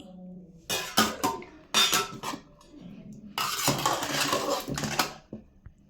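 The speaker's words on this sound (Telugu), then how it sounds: "మా మమ్మీ కట్ చేస్తుంది ఇలాగా స్మాల్ స్మాల్ పీసెస్గా కట్ చేసుకుంటే ఆయిల్లో డీప్ ఫ్రై అయ్యేటప్పుడు బాగా ఫ్రై అవుతుందన్నమాట" Cauliflower being cut into small pieces on a kitchen board for gobi manchurian, giving uneven bursts of knife chopping and clattering utensil knocks, with brief pauses between strokes.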